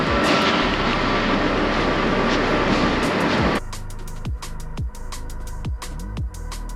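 Airliner on a 14-hour long-haul flight to Bangkok, loud broadband engine and cabin roar for several seconds that then cuts to a quieter hum with sharp clicks and knocks, no talking.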